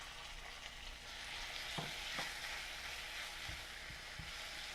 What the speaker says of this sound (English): We're going to saute this gently until the onion is translucent.